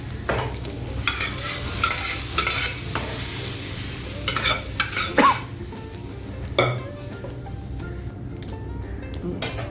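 Chana dal and snake gourd fry and get stirred in a pan, with a steady sizzle and repeated scraping strokes of a spoon against the metal. The strokes come in uneven bursts, close and fairly loud, with no talking.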